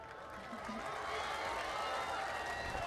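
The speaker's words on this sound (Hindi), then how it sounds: "तो दोस्तों अपने लिए बहुत सारी तालियां बजा दे जरा" A concert audience in Pakistan claps and cheers in a steady, dense wash of applause that swells slightly and continues throughout.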